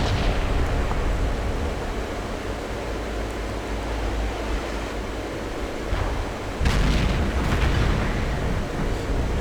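FV304 self-propelled artillery gun in World of Tanks, firing: a dense, continuous rumbling roar with a sharper, louder blast near the end, no voices.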